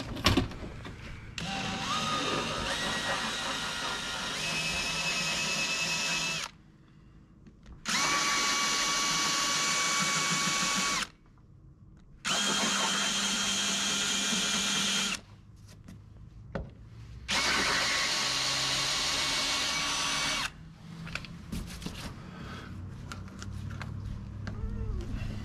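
A power drill whines in several long bursts, each a few seconds, separated by brief pauses, loud and close with a grinding metallic edge, drilling out fasteners on a sailboat's winches.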